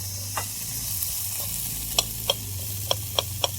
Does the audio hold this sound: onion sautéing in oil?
yes